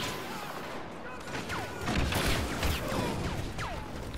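Turbo laser blasts in Star Wars Battlefront during a Walker Assault match on Xbox One, a dense wash of booming, crackling fire with whistling laser streaks sweeping through a loud battle din.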